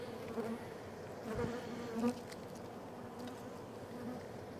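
Honey bees buzz steadily around hives in an autumn bee yard, a close, continuous insect drone with occasional louder passes and no talking.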